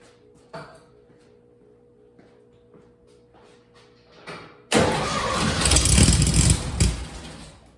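A buggy engine fed a shot of brake cleaner stays quiet for several seconds, with only small clicks and knocks, then catches with a sudden loud roar and runs raggedly close by.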